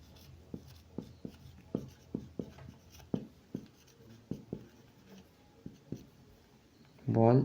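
Pen strokes writing out an SSC physics motion problem solution by hand, a series of short scratchy taps and strokes at an irregular rhythm, close and fairly quiet, ending in a brief louder rustle.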